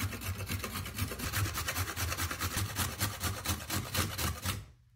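Fresh carrots rubbed hard against a metal box grater, a steady rapid rasping stroke after stroke, loud and close with no talk, stopping abruptly at the end.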